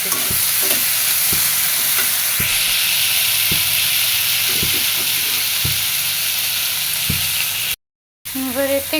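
Potatoes frying with green chillies in a hot pan, a loud continuous sizzle with regular scraping stirs of a spatula against the pan, close and steady, ending after a short gap with a brief bit of speech.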